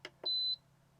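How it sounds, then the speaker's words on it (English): A temperature probe alarm gives one short, clear electronic beep after two faint taps, close by in a quiet room. "It is beeping now because the probe temperature is higher than the alarm temperature."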